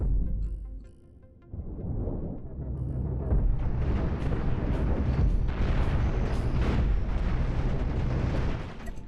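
Missiles exploding against an enemy ship's shields and hull in the space game Cosmoteer, a dense, booming barrage of blasts rumbling continuously after a short quieter opening, loud and heavy.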